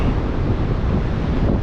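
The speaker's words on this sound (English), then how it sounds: "There's that camera wobbling around in the wind." Strong wind buffeting a wobbling camera at an Australian seaside fishing spot, a loud continuous low rumble with no voices.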